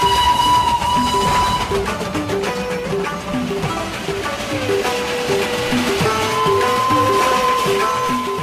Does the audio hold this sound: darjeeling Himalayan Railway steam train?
yes